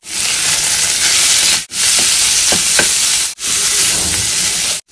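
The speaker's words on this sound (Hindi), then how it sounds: "काजू थोड़े से सुनहरे हो जाए तब तक हम इसे भून लेंगे" Cashews, curry leaves and green chillies fry in hot oil in a pan for poha, a loud continuous sizzle and hiss broken by two short pauses, with faint stirring scrapes under the crackle.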